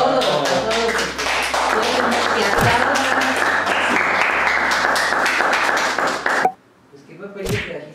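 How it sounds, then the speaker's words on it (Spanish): Audience applause at an informal Christmas gathering, with scattered sharp claps and taps, some close by, over chatter and a low hum. It cuts off abruptly near the end, followed by a brief quiet and a single voice. "Un aplauso. A todos."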